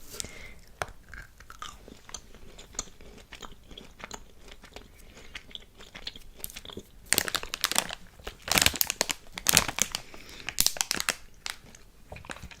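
Candymix gummy and hard candies are crunched and chewed close to the mic, with irregular sharp crunches and crinkling that grow louder and denser toward the end, and no talking.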